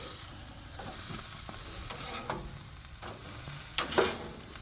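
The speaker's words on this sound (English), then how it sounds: "Oh, they're cooking up nicely." Burgers sizzle on a grill in a continuous close hiss, with occasional pops and crackles of fat flaring up, louder near the end.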